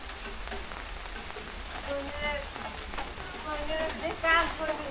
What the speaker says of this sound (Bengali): এখনো বৃষ্টি পড়বার লাগছে